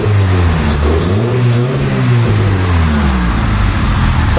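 A Honda Civic engine in rough, junkyard-worthy condition idles steadily after a spark plug change, heard up close as a loud, even, low hum with no talk.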